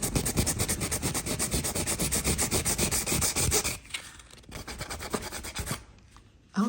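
A cow figure is sanded by hand with steady, close rasping strokes for about four seconds, then a brief pause before quieter, more scattered rubbing resumes, with no talking.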